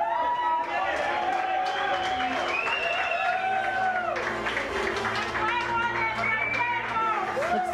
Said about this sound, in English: Everyone's still cheering his name here down on the court.